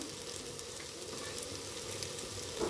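Curry ingredients fry in a pan with a constant close sizzle and crackle, steady throughout and with no voices.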